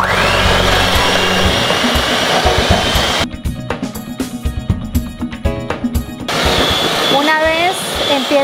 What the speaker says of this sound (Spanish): A las claras agregamos la pizca de sal y empezamos a batir con varillas hasta lograr blanquear la mezcla.